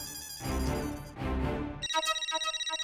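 A telephone rings out while a call is placed, bursts of a bright repeating ring tone with a brief pause, then a rapid warbling trill at the end, fairly close and with no talk over it.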